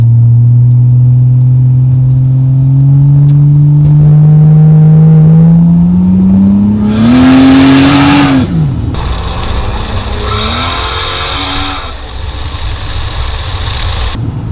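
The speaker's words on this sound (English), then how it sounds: "It's a cool blow-off valve, and I think it fits the car great." A single-turbo Toyota Supra with about 575 hp idles loudly, then revs up in a rising drone, drops off, and releases its blow-off valve in sharp hissing bursts, with no voices.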